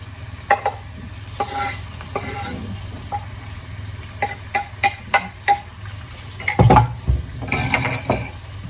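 Garlic chicken bites sizzling loudly in a pan while a utensil stirs and knocks against it, a run of sharp clinks and scrapes over a constant fry, then a heavier clatter near the end.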